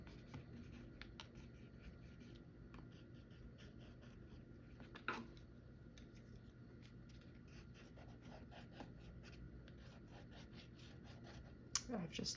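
A Prismacolor colored pencil scratching across a wet paper surface in short quiet strokes, close and faint, with a few louder scrapes and soft background noise.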